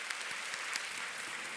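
Steady applause from a church youth congregation, a dense wash of many hands clapping at once, moderately loud and continuous throughout.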